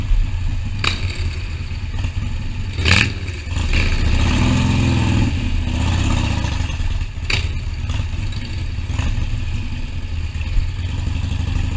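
A Harley-Davidson Iron 883 motorcycle engine revs close by, its loud rumble climbing and falling with rattly clatter and a few sharp bursts, rising to a sustained surge midway.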